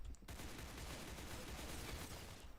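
AK rifle fire in a Roblox game: after a brief quiet start, a dense, continuous burst of loud, close shots runs for a couple of seconds without a break.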